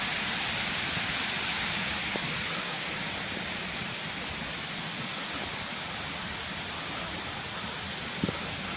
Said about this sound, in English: this is where the water channels underneath the road here and drops down there